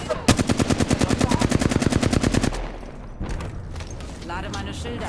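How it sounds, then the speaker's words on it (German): Rapid automatic gunfire in a video game, a fast even burst of about twenty shots lasting a couple of seconds, followed by scattered effects and trailing noise. "Ich stehe unter Beschuss."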